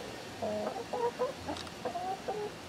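Chickens cluck at a new feeder in a string of soft, short clucks and calls, close but quiet over a low background hum, with no talking.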